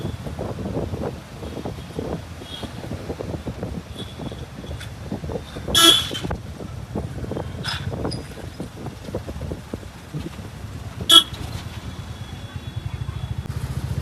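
Heavy road traffic in Porur, a constant murmur of motorcycle and car engines with wind buffeting, broken by a couple of sharp horn toots, one near six seconds and another near eleven.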